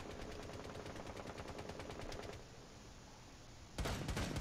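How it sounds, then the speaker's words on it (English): Rapid, steady automatic gunfire from Rainbow Six Siege, with dense bursts that ease into a quieter rumble before another loud burst breaks in near the end. "I hear a bunch of shooting and a bunch of running"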